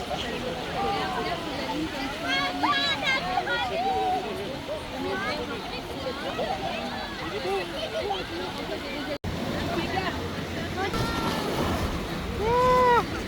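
Sea waves surging and crashing at Saint-Malo in Brittany, a continuous churning wash with wind buffeting the microphone, while several voices chatter and exclaim throughout.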